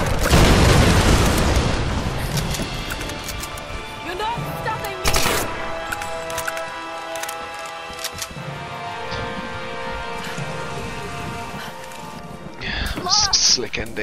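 Explosions from the Tomb Raider video game, a loud broadband blast at the start with further booming bursts and crackling debris through the sequence, game music and effects underneath.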